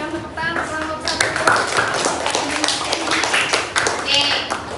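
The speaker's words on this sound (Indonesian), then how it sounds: "Berikan tepuk tangan untuk kelompok 1." A group of students claps together in a classroom, a lively burst of applause with voices mixed in.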